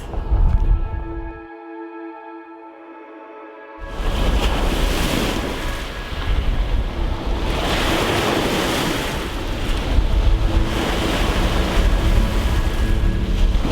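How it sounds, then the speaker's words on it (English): Wind-driven waves breaking on a lake shore near Tolhuin, a loud continuous surf roar with heavy wind buffeting, following a few seconds of quieter engine-like hum. "When it's windy out here and the weather is potentially stormy, the waves are basically, you'd think you're right out by the sea."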